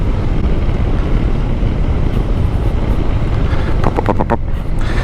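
Steady broadband wind roar buffets the rider on a BMW C400X scooter cruising at about 40, loud and unbroken throughout with no voices.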